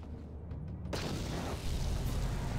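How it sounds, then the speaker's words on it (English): A grenade blast in Star Wars: Knights of the Old Republic bursts into a loud, broad roar about a second in and keeps rumbling to the end after a quieter lead-in with a few soft ticks. "Can we surprise them with a grenade?"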